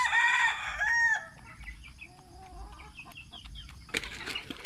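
Pet chickens in the morning: a rooster crows loudly and close at the start, followed by softer clucking and scattered calls, then another burst of crowing near the end.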